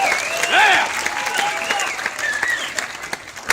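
A screening crowd applauds and cheers for a guest's entrance, sustained clapping with high whoops and shouts rising through it, close and lively.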